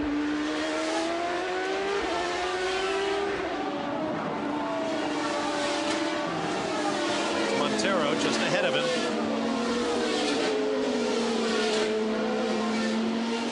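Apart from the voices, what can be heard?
Champ Car race car with Ford Cosworth engine, onboard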